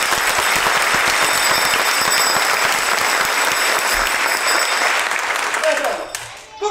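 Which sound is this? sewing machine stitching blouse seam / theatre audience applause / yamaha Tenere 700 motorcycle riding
theatre audience applause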